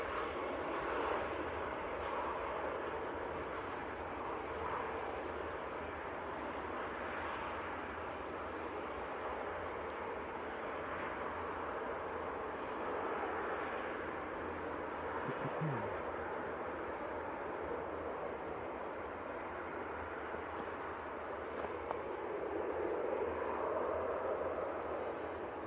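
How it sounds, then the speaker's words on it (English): Airliners taxiing at Manchester Airport in freezing winter weather, a Lufthansa jet among them heading out, make a steady, continuous distant engine roar and broadband rumble that holds evenly throughout without pause. "Lufthansa's having to taxi out the long way around to avoid the Emirates"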